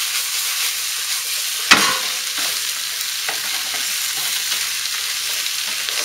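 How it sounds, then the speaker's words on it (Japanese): Corned beef stir-fried with cabbage and onion fills the clip with a steady close sizzle, with a sharp spatula clack early on and repeated scraping and tossing against the pan. "手早く、1分以内、他の野菜、キャベツと玉ねぎに絡める"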